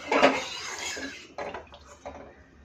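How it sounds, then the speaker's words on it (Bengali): Metal spoon scraping and clinking around a kadai while mustard oil is spread over it before frying fish: one loud scrape at the start, then several shorter, softer strokes, close by. "তেলটা একটু নাড়িয়ে চাড়িয়ে আমি একটু কড়াইতে লাগিয়ে নেবো"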